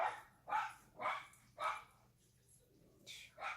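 Several dogs bark in short, sharp bursts, about six loud yaps spaced roughly half a second apart, close by with a faint low hum beneath.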